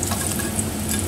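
Garlic halves and dried red chillies frying in oil in a pan, a dense continuous sizzle, close and steady for a brief moment with no talk.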